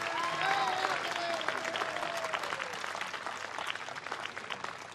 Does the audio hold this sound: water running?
no